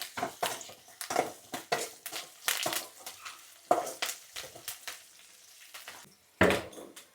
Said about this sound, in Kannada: ಜೊತೆಗೆ 2 ಕಡ್ಡಿ ಕರಿಬೇವಿನ ಸೊಪ್ಪು, ಇದನ್ನು ಚೆನ್ನಾಗಿ ಫ್ರೈ ಮಾಡೋಣ